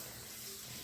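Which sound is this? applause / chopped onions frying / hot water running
hot water running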